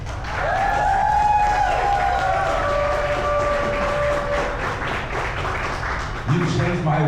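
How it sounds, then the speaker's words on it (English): Guests at a CSULB Class of 2025 graduation party applaud in a sustained wash of clapping, with whistle-like tones rising over it and a lower rumble entering toward the end. "let's give them a round of applause"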